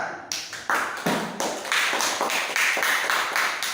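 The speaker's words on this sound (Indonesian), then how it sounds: "Tepuk tangan untuk teman kita." Students in an Islamic studies classroom clap together for a classmate in a series of loud, rhythmic group claps, close and unaccompanied by talk.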